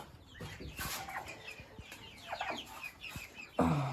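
Turkeys on a farm near rooster pens make a series of short calls and clucks at moderate distance, with a louder burst at the end.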